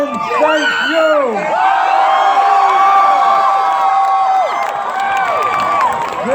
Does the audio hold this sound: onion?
no